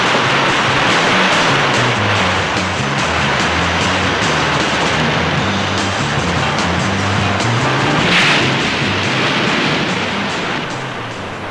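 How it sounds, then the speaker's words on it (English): Ocean waves break in a steady, loud wash of surf with a deep rumble underneath, one swell cresting a little more sharply near the middle, no voices. "Note the breaking of these waves"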